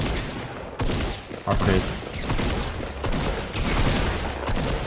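Shotgun blasts and other gunfire crack through a Fortnite Battle Royale duos fight in several loud bursts, with players talking over the shooting.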